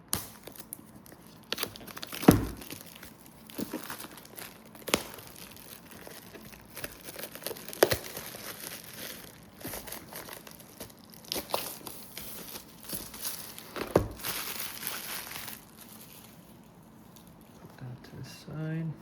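Cardboard and plastic packaging on a Keychron J8 HE 8K keyboard box being ripped and crinkled open, with scattered sharp tears and rustling bursts, close and fairly quiet, with a voice talking over parts of it.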